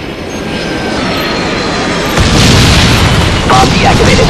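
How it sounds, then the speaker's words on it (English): A B-52 bombing run in a video game sets off a sustained barrage of loud, rumbling explosions that swell and grow heavier partway through, with the booms blending into a continuous roar. "Friendly B-52 on the way."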